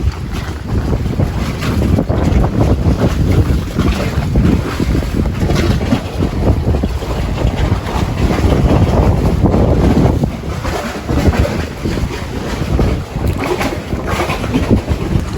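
Boats on the water outdoors in Turkiye, heard as continuous loud wind buffeting the microphone over a broad rush of water and distant boat noise, with no voices.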